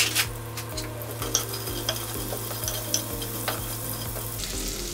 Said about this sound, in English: Careful not to burn your butter or garlic.